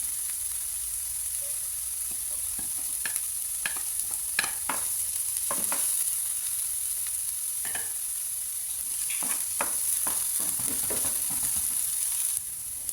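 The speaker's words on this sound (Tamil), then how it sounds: "வெள்ளைப்பூடு லைட்டாக வதங்கிடுச்சு." Garlic sautéing with onions in a pan gives a constant high sizzle, with scattered scraping and stirring taps from a spatula, close and clear with no talk.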